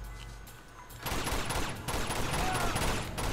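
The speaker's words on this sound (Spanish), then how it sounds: "Ahí hay una ametralladora." Rapid machine gun fire erupts in the video game Uncharted 2, a dense loud burst of automatic shots after a quieter opening, continuing steadily to the end.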